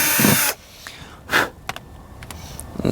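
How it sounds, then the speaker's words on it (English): Short bursts from a power drill boring a hole with a 1/4 inch bit while fitting a Corvette Z06/Z07 aero package part, brief close whirs separated by quiet gaps. "just mark your hole right in the center with a 1/4 inch drill bit"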